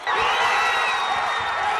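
A crowd cheers and whoops at the moment Rio de Janeiro is announced as Olympic host city, a dense, steady roar of many voices with no break, loud and close throughout.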